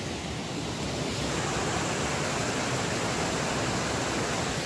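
A waterfall in a wet forest sends up a continuous broadband rush of falling water, close and steady, with no voices over it.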